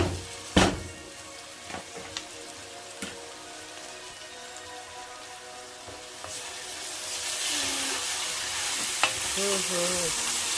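Garlic and chicken with cluster beans (gawar phali) roast in a pan with a soft steady sizzle, punctuated by a few sharp utensil knocks, growing louder in the last few seconds as a voice speaks briefly.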